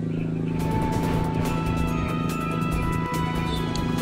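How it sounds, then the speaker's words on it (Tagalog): A loud, steady generator drone hums outdoors at an evacuation tent site in San Remigio, Cebu, without a break, rough and constant, with a faint knock near the end. "medyo malakas yung tunog ng generator dito kasi yan lamang ang source of power"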